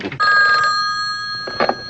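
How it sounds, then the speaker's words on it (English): A telephone bell rings loudly with a steady metallic trill in a 1960s Batman television scene, one sustained ring cut off partway, followed by a brief second burst near the end. "unless we get some disturbing phone call, Chief O'Hara."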